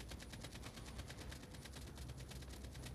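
Rapid gunfire in a battle royale video game, rattling off in quick, evenly spaced bursts throughout, faint and fairly distant with no voices over it.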